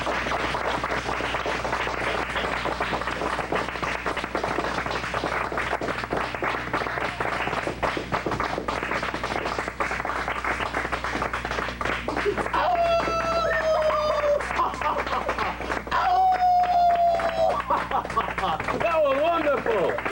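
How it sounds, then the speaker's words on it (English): An audience claps steadily for a performer at the final show of a children's program, with sustained applause mixed with crowd noise and some speech. Whistling tones come in near the end. "clap for Bubba like you clap for Tinkerbell"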